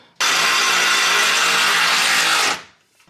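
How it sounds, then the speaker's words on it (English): Loud, steady whir of a power tool tightening bolts on an aftermarket ASFIR 4x4 skid plate, starting abruptly, running about two seconds up close, then winding down. "Now I'm just tightening all the bolts up."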